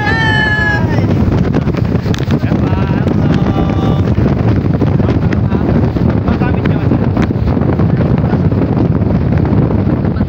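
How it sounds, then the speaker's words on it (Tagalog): Strong wind buffets the microphone in a constant heavy rumble at a mountain view deck in Dingalan, Aurora, while people shout and talk briefly near the start. "napakalakas na naman ang hangin at hindi nagbabago yung hangin dito guys, napakalakas."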